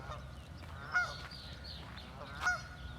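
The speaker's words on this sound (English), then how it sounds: "Some chatty geese out here this morning." Chatty geese honking outdoors on a morning walk, two distinct honks about a second and a half apart, moderately distant over quiet background.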